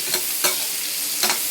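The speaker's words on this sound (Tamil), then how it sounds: "கொஞ்ச நேரம் நல்லா லைட்டாக வதங்கிட்டோம்" Chopped garlic and onion petals sizzle in butter in a pan, a soft steady frying hiss broken by three or four scraping stirs close by.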